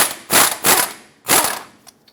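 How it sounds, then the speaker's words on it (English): A ratchet wrench turning a 21mm socket on the tie rod mounting nut of a 2003-2009 Dodge Ram 2500, three loud close clicking bursts in quick succession with a faint tick at the end. "Use a 21mm socket, remove this mounting nut that holds the tie rod stud onto the knuckle."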